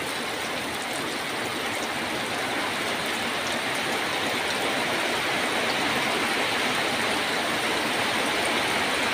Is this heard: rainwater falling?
yes